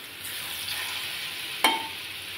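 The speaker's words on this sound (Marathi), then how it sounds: "ते आपण लसूण घेतलेला आहे, हा पण फ्राय करून घेऊया।" Crushed garlic frying in oil for a red chutney gives a steady hiss of sizzling throughout, with one sharp crackle or spatter partway through; no voices.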